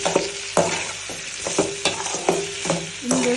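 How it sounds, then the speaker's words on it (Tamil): Tomatoes sautéing in oil in a pan for kara kuzhambu, a tangy South Indian curry: a close sizzle punctuated by repeated rhythmic spatula strokes and scrapes against the pan, roughly twice per second. "தக்காளியும் சேர்த்துக்கிட்டு ஒரு ரெண்டு நிமிஷம் நல்லா வதக்கி விட்டுருவோம்"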